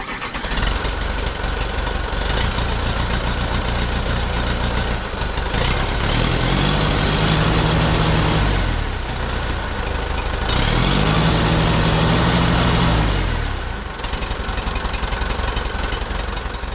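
An old, previously abandoned Case 580CK backhoe diesel engine runs loud and close, a steady rumbling idle that rises twice into longer revs before dropping back.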